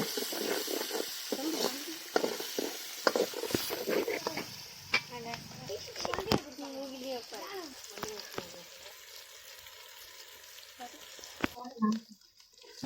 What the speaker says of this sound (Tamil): இப்ப வெங்காயம் போட்டுக்கலாம் வதக்கலாம் அஞ்சு நிமிஷம் வதக்கலாம்